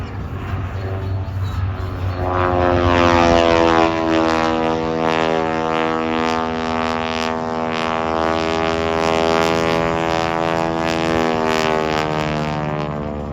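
A 450-horsepower Boeing Stearman open-cockpit biplane flies aerobatics at an air show, its radial engine giving a loud, sustained droning roar heard from the grandstand, with the pitch slowly shifting as it passes.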